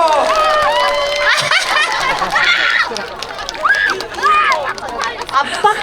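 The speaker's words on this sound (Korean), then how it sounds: "박수 주세요!" Lively crowd at an outdoor neighborhood community festival with an invited singer's performance, cheering and whooping with scattered clapping under excited shouts and chatter, steady and loud throughout.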